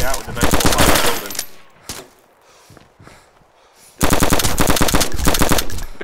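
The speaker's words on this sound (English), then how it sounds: "Who's shooting?" Automatic gunfire in the survival video game DayZ, loud rapid bursts of shots at the start, a quieter gap with scattered sounds, then another sustained burst of rapid fire.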